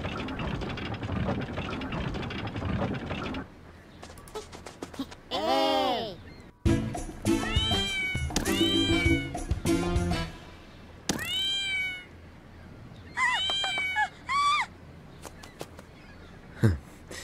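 Cartoon cat meows in the 3 Pandas in Brazil video game, a series of rising and falling mews scattered over music and game sounds, with a voice talking at times.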